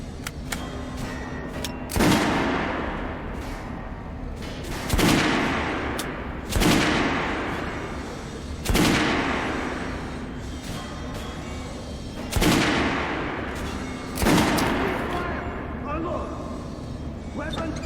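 Gunfire at a shooting range in the video game Metro: Last Light, six loud separate shots spaced a couple of seconds apart, each ringing out with a long decaying echo, over a low steady background hum.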